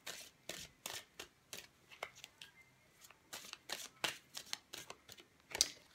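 Oracle cards are shuffled by hand in a quiet room, a steady run of crisp riffling bursts repeating roughly twice a second, close and unaccompanied by talk.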